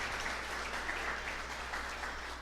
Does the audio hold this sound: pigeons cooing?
no